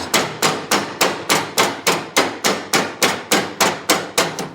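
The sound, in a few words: rubber hammer tapping lawn mower axle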